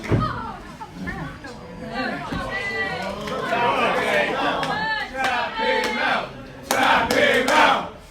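Crowd at a pro wrestling submission match, loud overlapping voices and shouting swelling in waves, with bursts of clapping and a sharp impact at the start.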